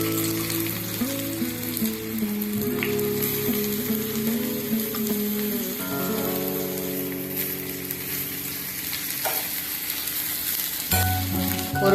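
Hot oil sizzles steadily as eggplant sautés in a pan, with occasional clinks and scraping from stirring. No one speaks.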